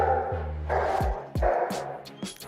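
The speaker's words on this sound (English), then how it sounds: "I don't know if you can hear my dog barking downstairs" A dog barks several times from downstairs, giving short, muffled woofs and yips at moderate distance, with a brief whine among them.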